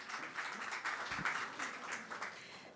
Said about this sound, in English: Anima Roses, round of applause goes to you.